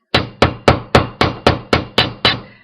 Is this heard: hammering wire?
yes